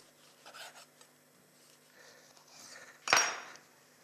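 A knife cutting while a dessert is layered into a glass in a kitchen, with soft scraping and rubbing strokes followed by one brief, louder rasping cut near the end, all fairly quiet and close.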